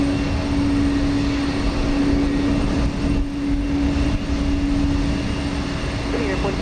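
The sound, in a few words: two airplanes taking off together at Houston Intercontinental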